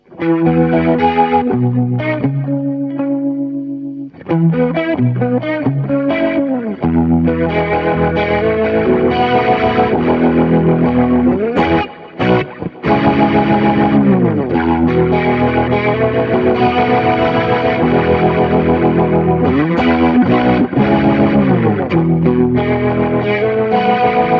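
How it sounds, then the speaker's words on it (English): Electric guitar through a Leslie rotating speaker cabinet emulation pedal on a pedalboard, loud and sustained, with swirling, warbling chords and single notes that pause briefly near the start and again midway, and no voices. "This is the Leslie cabinet, which is kind of like a rotating speaker that you used to get for organs and things"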